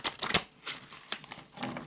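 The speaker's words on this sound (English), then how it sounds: "I just keep shuffling until I feel like it's ready" Tarot cards are shuffled by hand close by, making quiet, crisp riffling bursts in quick irregular clusters, with no talk.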